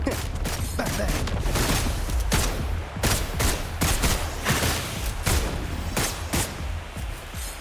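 Wuthering Waves gunfire rattles off in rapid volleys of sharp, close shots, repeated in bursts over a low rumble of game sound and music, with a voice speaking faintly in places.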